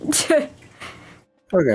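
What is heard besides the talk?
cough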